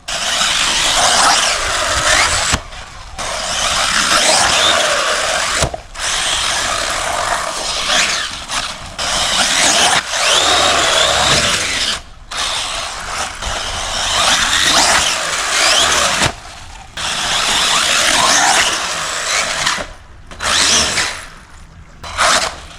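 A 70 mph RC car tears across sand with a loud, high-pitched electric whine in long sustained bursts, cutting out briefly several times before screaming back up to full speed.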